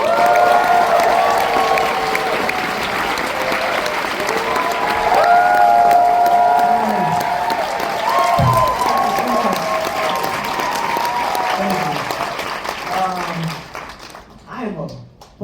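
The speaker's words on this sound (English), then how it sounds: "give him twice the raucous applause" A festival audience at a Sundance screening of Train Dreams applauds and cheers loudly for director and co-writer Clint Bentley, with dense clapping and whoops that carry on for many seconds before tapering off, and some voices over the noise.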